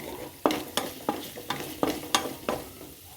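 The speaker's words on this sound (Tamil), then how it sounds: "இஞ்சி பூண்டு பேஸ்ட் ஆட் பண்ணிக்கலாம். நல்லா வதங்கட்டும்." Ginger garlic paste and mutton liver sautéing in a pan for a pepper liver fry, with a steady run of sharp stirring scrapes about every third of a second over a soft sizzle.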